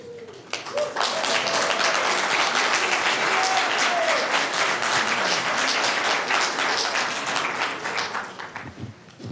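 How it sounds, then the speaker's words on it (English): Sustained audience applause fills a board of supervisors meeting room, dense and loud from the start and holding steady for several seconds before tapering slightly near the end. "the applause was not for me, but for this overall effort"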